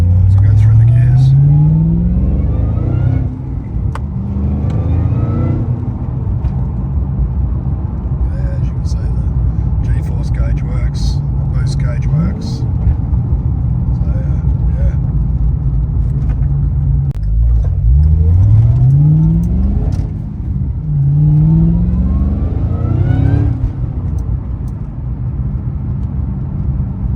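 A 2012 Ford FPV GT engine accelerating hard through the gears, a loud, steady roar whose pitch climbs and drops again with each of several shifts.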